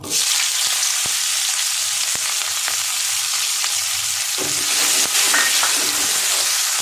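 Chopped onion hits hot oil spiced with cloves and a piece of cinnamon, giving a loud, steady, close sizzle with a few faint taps and stirs underneath and no talk.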